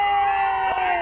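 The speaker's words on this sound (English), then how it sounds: "a big loop of cheers and sirens" Cheering crowd mixed with a wailing siren at a parade, steady and fairly loud, with a brief burst of noise near the end.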